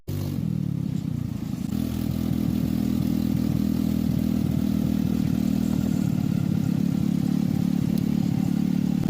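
An ATV driven through a forest near a resort in Mexico gives a steady, loud, close engine drone with a rattling low rumble, holding on without a break from start to finish.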